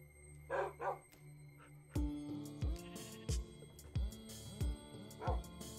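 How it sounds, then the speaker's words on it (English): Dogs in the Minecraft video game bark repeatedly in a steady series of sharp, evenly spaced barks after a couple of softer yips, loud and close over faint background game sound. "I don't even know how many dogs there are."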